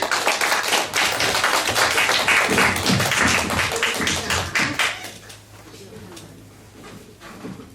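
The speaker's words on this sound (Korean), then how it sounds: "박수 주세요" Audience clapping at a Korean lecture-style talk show, a dense burst of claps mixed with voices for about five seconds before tapering into quieter murmuring.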